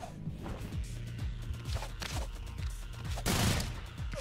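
Rapid gunfire from the video game ROUNDS, a fusillade of repeated shots with whooshing projectile sounds over game effects and music, ending in a louder burst of impacts.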